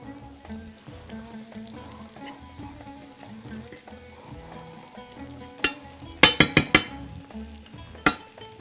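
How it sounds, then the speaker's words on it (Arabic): Onions frying in a pan, a soft continuous sizzle under quiet background music, then a burst of sharp loud crackles and spits near the end. "عايزه البصلية بتاعتي تحمر"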